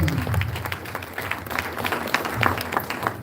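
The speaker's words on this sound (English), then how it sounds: "Please, let's clap again for the chairman." An audience at a Nigerian legal institute's founders lecture applauds the chairman, a steady, moderately distant patter of many hands clapping in a hall throughout.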